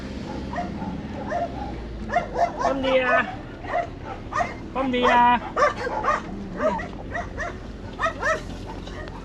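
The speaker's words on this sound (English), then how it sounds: "the lady rescues dogs as well" Several rescue dogs bark and yip nearby in short bursts, with whimpers between, while a person greets them over the noise, in Portugal.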